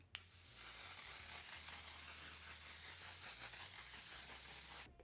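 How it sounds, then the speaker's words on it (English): A steady, continuous hiss of a fine mist of makeup setting spray lasting several seconds, close and fairly even, with a click at the start and end. "For the last step of makeup, setting spray, of course."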